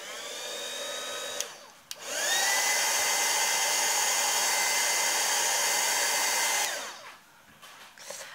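A hair dryer blows steadily on a watercolor painting, a loud continuous whir that starts abruptly, holds for several seconds and then cuts off, with quieter room noise before and after.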